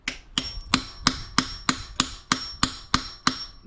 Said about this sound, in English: just give it a few taps with a hammer